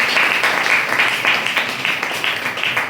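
An audience at a spoken gathering breaks into a brief burst of dense, steady applause, many hands clapping together at moderate distance.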